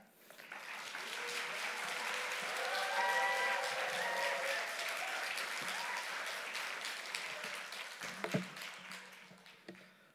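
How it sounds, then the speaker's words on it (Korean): Audience in a Korean Wednesday church service applauding to welcome a newly ordained pastor, a sustained swell of crowd clapping that rises, holds steady and fades, with a faint voice and a brief knock near the end. "나오실 때 큰 박수로 우리 환영하도록 하겠습니다"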